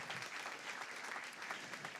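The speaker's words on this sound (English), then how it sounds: "Let's give Brenna a round of applause." A live studio audience at a game show claps for a co-host, a fairly quiet but steady round of many hands applauding that continues evenly throughout.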